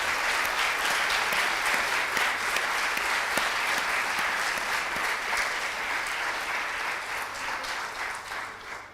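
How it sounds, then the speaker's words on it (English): Sustained audience applause at a graduation ceremony, a dense, steady patter of many hands clapping together that continues unbroken and fades slightly toward the end. "maybe they also deserve a big applause for what they did for you."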